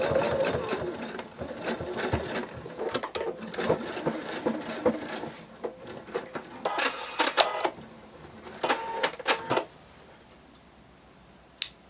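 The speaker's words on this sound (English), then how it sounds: "I think I have a small opening here that I'm going to go ahead and sew closed." A domestic sewing machine stitches shut a small opening in a tiny dragon plush seam, running in close, fast rattling bursts with brief stops and a pause near the end.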